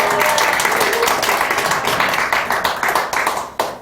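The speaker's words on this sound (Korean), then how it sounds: "감사하는 마음으로 박수로 환영하겠습니다." A church congregation applauds to welcome an elder who publishes a Christian newspaper, a loud dense burst of clapping that thins into scattered claps toward the end.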